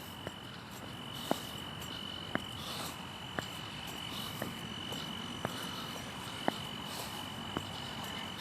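Frogs and insects calling from a flooded street after rain, a steady chirring chorus with sharp repeated croaks popping out every second or so, moderately distant and fairly faint.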